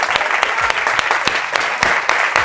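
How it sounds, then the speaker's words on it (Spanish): Audience clapping for a mentoring participant named Juan, steady and dense broadband patter with a few sharper individual claps standing out, continuing throughout at a fairly loud, close level. "Pues un gran aplauso para Juan."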